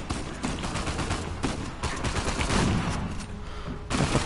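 Shotgun fire in Uncharted 4 booms in rapid, overlapping bursts of loud gunshots, a dense fusillade with a sharp final blast near the end.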